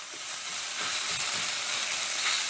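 Ground beef frying in a pan with tomato sauce, a steady soft sizzle and hiss with faint stirring scrapes, fairly quiet and close.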